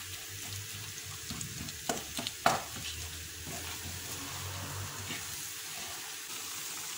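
Diced chicken breast, cut into small thin cubes, sizzles and fries steadily in a pan over oil, with a few brief clatters of stirring near the start.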